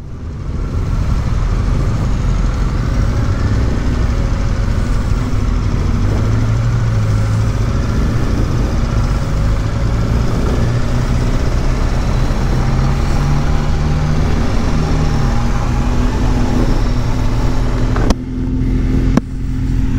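A motorcycle on new tyres laps Anglesey Circuit with a steady, loud engine drone and heavy wind roar throughout, and brief dropouts near the end.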